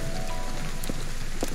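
Steady rain falls in the video game Ghostwire: Tokyo, an even hiss of drops hitting the ground with a couple of faint soft clicks over it and no voices.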